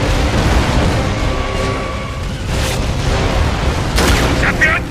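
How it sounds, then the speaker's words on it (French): Mortar shell explosions in the video game Gears of War 3 (RAAM's Shadow DLC) form a dense, continuous booming rumble with heavier blasts near the end, loud and close, with a voice faintly underneath. "Mais d'où ils viennent, ces obus?"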